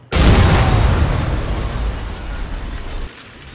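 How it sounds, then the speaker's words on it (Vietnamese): A bomb in Watch Dogs 2 on PS4 goes off in one sudden, loud blast, followed by a long rumbling roar that slowly fades before cutting off abruptly. "Giờ chúng ta chỉ cần đặt bom ở chỗ này là xong."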